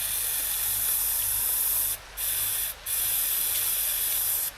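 Aerosol carb cleaner sprays into a pipe during the rescue of a rare Porsche 924 Turbo that sat for 24 years, a loud steady hiss broken by two short pauses, with a compressor running beneath.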